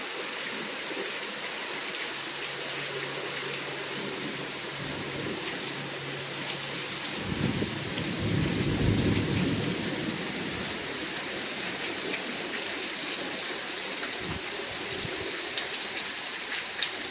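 Heavy rain after a long dry spell pours steadily onto a roof and the ground in a dense, constant hiss, with a deep rolling rumble swelling partway through before the downpour carries on alone.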